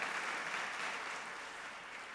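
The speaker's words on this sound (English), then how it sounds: "I want you to give yourselves a round of applause" Applause from a gala audience at an awards event, a dense, steady wash of clapping filling the whole short stretch at moderate level and easing slightly toward the end.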